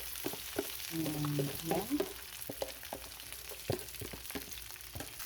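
Rice soaked in egg hits a hot pan with garlic and fries with a steady close sizzle, broken by scraping and stirring clatter from a utensil; a single short word is spoken.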